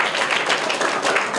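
A crowd claps loudly and densely for a quiz contestant, a sustained wash of applause with no talking over it.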